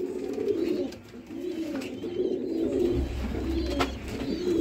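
Pigeons at a Sialkot pigeon-keeping loft coo in low, steady throbbing phrases, repeated close by over faint background noise with a brief lull partway through.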